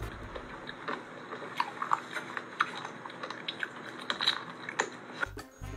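Someone chewing and swallowing an unfamiliar food, with soft, wet crunching and biting sounds that repeat irregularly up close for several seconds, ending in a brief louder rustle.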